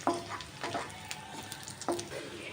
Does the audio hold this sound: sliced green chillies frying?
yes